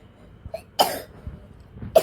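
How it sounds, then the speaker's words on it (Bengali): A young boy with a lingering cough, heard as two or three short, sharp coughs close to the microphone in a quiet indoor room. "কাশছে, শুনতেই পাচ্ছেন ভয়েস ওভারের সঙ্গে সঙ্গে"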